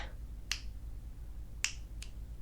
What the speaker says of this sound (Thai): จะดีดนิ้วทำไมวะเนี่ย